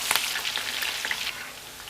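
Peppers crackle and sizzle steadily in hot oil with small spattering pops, close by and with no talking.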